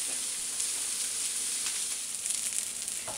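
Onions fry in a pan over medium-high heat with a continuous bright sizzle and hiss, close and steady throughout, with occasional crackles.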